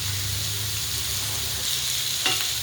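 Ridge gourd cooking in a covered pan, giving a steady, even sizzle and frying hiss throughout with a faint low hum beneath and a brief soft clink near the end.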